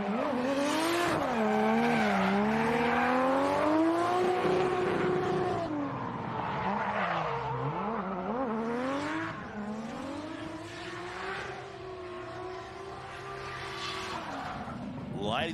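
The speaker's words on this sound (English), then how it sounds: "I'm just going to let you guys listen to this car sing." A drift car's engine revs hard and wails through rising and falling pitch during a judged run at Pheasant Wood Circuit in New South Wales, loud and continuous with tyre noise and a commentator talking over it.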